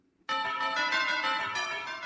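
Orchestral chimes struck in a room beside a pair of timpani, ringing out with a sudden bright strike and a shimmering metallic sustain that hangs and slowly decays.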